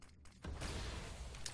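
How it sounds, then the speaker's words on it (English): A smoke grenade thrown in CS:GO on the Cache map, heard as a quiet short lead-in followed by a steady broadband hiss of the grenade that fills the rest of the moment, with no voices. "Throwing smoke."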